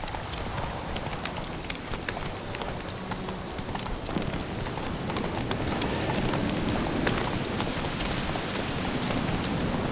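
Roach the horse's hooves clip-clopping steadily at a trot in The Witcher 3, the even patter running continuously and close up against a rain-like wash of background noise.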